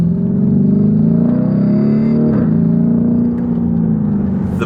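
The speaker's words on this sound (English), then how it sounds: "The bellow of the exhaust note sounds really nice." A Lamborghini Urus with its twin-turbo V8 rumbles loudly and close, its deep exhaust holding a steady bellow that rises and falls slightly under light throttle while driving.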